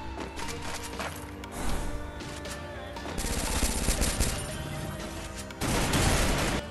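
Bursts of rapid automatic gunfire and single shots ring out in a mobile shooter game played on an emulator, loud and dense, rising in intensity toward the end with no speech.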